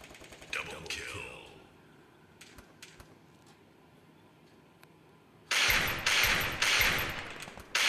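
Free Fire gunfire opens with a few scattered shots. After a quiet gap, a loud sustained burst of rapid automatic fire takes over near the end, with a voice heard early on.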